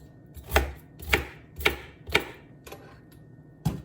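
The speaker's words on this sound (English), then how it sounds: "And I'm just gonna dice it." A knife dices chayote on a cutting board, five or six crisp chopping knocks at a steady, unhurried rhythm, then a short pause and one last chop, close and clear with no talk.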